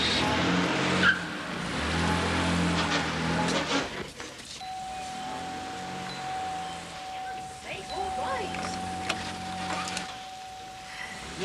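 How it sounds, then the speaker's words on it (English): A car engine starts and runs with a low rumble, then revs and pulls away, the engine noise shifting as it drives off and fading into a steady drone near the end, with a faint tonal whine in the background. "Start the car, Harry."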